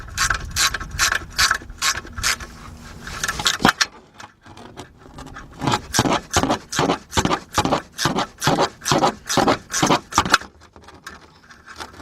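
Bolt on a 2001 Lincoln LS 3.0 AC low-pressure line bracket tightened with a ratchet: a loud close burst of ratcheting clicks, a pause, then about a dozen rhythmic ratchet strokes in even succession, no talking.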